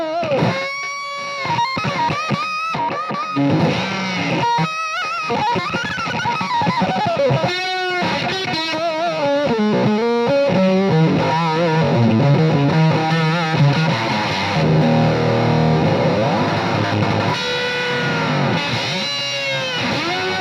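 Electric guitar through an effects pedal with delay, giving a buzzy ring-modulator-like tone; a continuous played phrase with repeating echoes trailing the notes, loud and up front, no talking.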